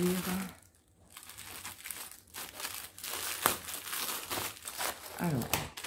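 Crinkly plastic wrapping from an AliExpress parcel is torn open and crumpled, close and loud, in irregular rustling bursts under a French-speaking voice.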